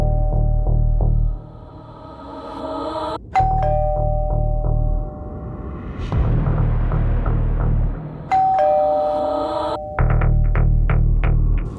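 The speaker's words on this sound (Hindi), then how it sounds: "बस डोरबेल बजी।" A doorbell rings repeatedly in a home, its clear ding tones sounding over a steady low hum with no talking.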